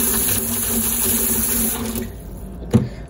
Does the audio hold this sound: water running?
yes